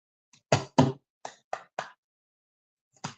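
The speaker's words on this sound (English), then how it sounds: "knock all the negative if there is any" Six knocks on a hard surface in an uneven pattern, a close double knock, a quick run of three, then a lone final rap after a pause, crisp and near with silence between.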